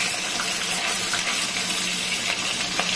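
Hilsa fish heads frying in a pan: a steady, loud, dense sizzle of hot oil that continues without a break, with no voices over it.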